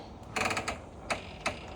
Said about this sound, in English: Little squeaky screen door.